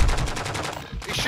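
Rapid automatic gunfire in Call of Duty: Modern Warfare II, a loud burst of repeated shots fired in quick rhythm that breaks off briefly, then resumes, with no talk over it.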